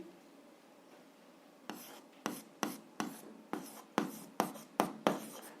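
Pen writing on paper while working a seventh-grade algebra exercise, a series of short scratchy strokes in quick succession after a quiet start, close and soft.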